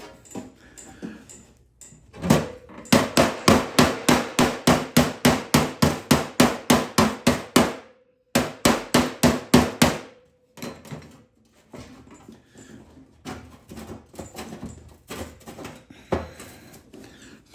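Rapid, steady hammer blows ring out on sheet metal held against a bumping spoon, in long bursts, close and loud, with brief pauses and slower, scattered taps between runs.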